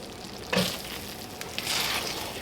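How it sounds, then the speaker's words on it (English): Taco meat filling with melted cheese for a tater tot casserole simmering in a pan, stirred with a couple of scraping passes over a soft bubbling sizzle, close and without speech. "it's been simmering here for a little while"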